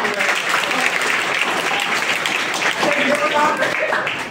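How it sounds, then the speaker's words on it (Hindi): Crowd at a poetry recitation event in Narsinghpur, Madhya Pradesh, breaks into loud, continuous applause, a thick wash of clapping from many hands with voices faintly audible underneath. "जोरदार ताली"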